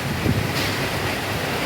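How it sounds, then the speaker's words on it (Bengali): Strong wind gusts steadily past a verandah during a rainy morning, a loud, continuous rushing roar with microphone buffeting and no speech. "অনেক বাতাস, এখন অনেক বাতাস।"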